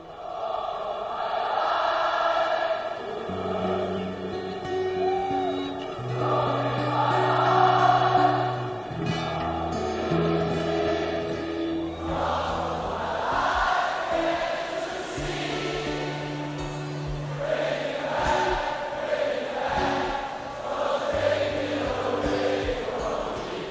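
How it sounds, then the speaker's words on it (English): A huge concert crowd sings a song in the Bohemian Rhapsody film, thousands of voices holding long, swelling notes in unison over a steady wash of crowd noise. "They're all singing. Thousands of them. All singing to you."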